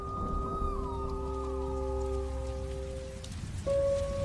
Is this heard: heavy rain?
yes